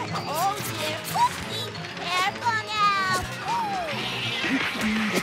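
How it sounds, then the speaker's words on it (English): A cartoon kitten gives several high, gliding meows in quick succession, mixed with animated children's voices and lively background noise from a kids' show. "aren't you the sweetest itty-bitty little kitty?"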